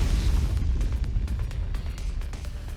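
An anti-tank grenade projectile exploding in the video game Punishing Gray Raven, a heavy, sustained rumbling blast with deep low-end boom and crackling debris throughout.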